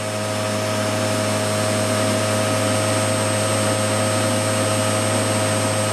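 A steady, even electric whine and hum from an aircraft DC starter-generator motor turning slowly, loud and constant throughout with a low droning tone and no speech.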